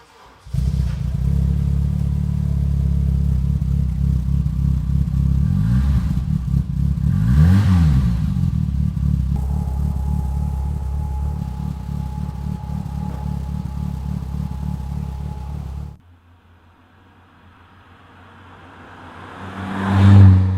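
A BMW E30 M3 Sport Evolution with a 2.5 litre engine drives along loudly and steadily, its engine droning and rising through the revs for about sixteen seconds, then dropping to a quiet idle before surging again at the end.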